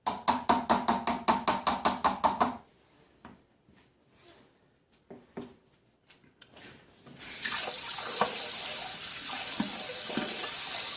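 A kitchen tap runs as soap-making spoons are rinsed under it, the steady rush of water following a rapid series of rhythmic clicks and some quieter handling clatter.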